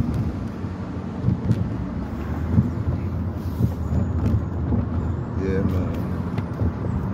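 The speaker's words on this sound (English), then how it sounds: "Got the garbage truck coming fast as hell" A garbage truck rumbles past close by, a steady low roar with a brief hiss like air brakes, over constant road noise.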